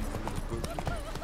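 Geralt's horse Roach galloping in The Witcher 3: Wild Hunt video game, a steady rapid clip-clop of hooves with a brief whinny, under constant talk and game background noise.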